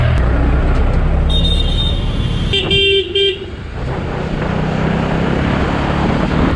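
Busy city road traffic around a Bajaj NS 200 motorcycle, a loud continuous rumble of engines with a short horn-like toot in the middle, close and steady throughout.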